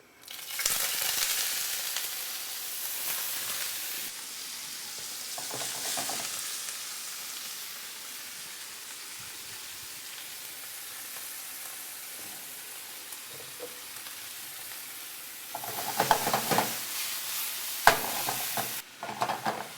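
Pork fries in hot oil in a non-stick pan, giving a steady close sizzle with louder bursts of stirring and scraping near the start and again toward the end, no voices.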